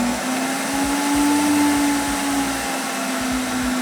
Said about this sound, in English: I can adjust the speed of the blender just by using my finger